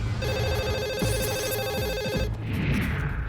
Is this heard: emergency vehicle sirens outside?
no